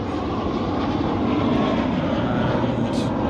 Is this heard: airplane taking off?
yes